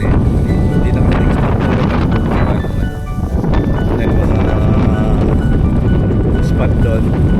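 Strong gusty wind buffets the microphone in heavy, continuous roaring blasts, briefly easing midway before surging again, with a voice speaking underneath.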